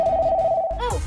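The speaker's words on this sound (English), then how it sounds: "Oh, a phone call." A single telephone ring sounds as one sustained electronic tone, loud and close, that cuts off abruptly and is followed by a short clattering noise.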